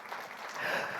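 Audience hand clapping at a talk, a soft, diffuse patter of many hands heard at a distance that stays steady and swells slightly toward the end, with no voices over it.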